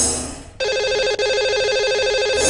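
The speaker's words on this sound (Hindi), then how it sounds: "चलिए उन्हें फोन करते हैं।" A telephone line rings out alone during a radio show's call to its lucky caller, a steady repeating ring tone that starts abruptly after a brief quiet lead-in and holds loud and clear with one short break.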